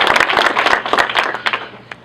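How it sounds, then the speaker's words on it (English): An audience at a judicial campaign event applauding for Dave, with irregular, fairly close clapping that gradually thins out over about two seconds. "So please, a round of applause for Dave"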